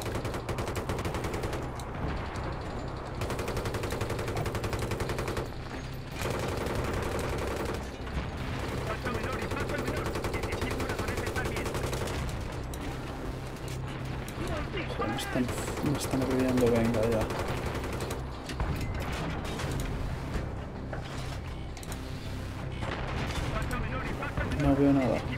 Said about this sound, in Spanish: ¿Quién coño me está disparando?